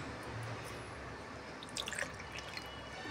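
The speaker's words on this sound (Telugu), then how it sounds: "నేను మొత్తం 5 గ్లాసుల వరకు నీళ్ళు పోసాను" Water pours steadily into a cooking pot for a foxtail millet and moong dal pongal, a continuous close rushing splash with a few brighter drips near the end, heard alone.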